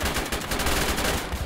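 Rapid automatic gunfire in the military game ARMA, a dense continuous burst of loud rounds fired in quick succession.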